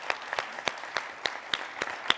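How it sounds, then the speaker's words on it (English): An audience applauds a panel at a community report event, a sparse round of individual claps at a steady rhythm, moderately distant and fairly quiet. "let's give them another round of applause"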